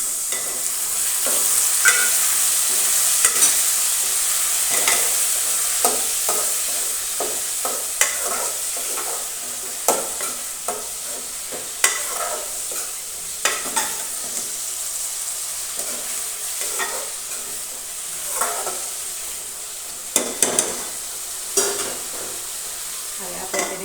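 Tomato, ginger, garlic and chili paste sizzles and fries in a pan while a spoon stirs it with repeated scraping clacks, close and steady with no talking.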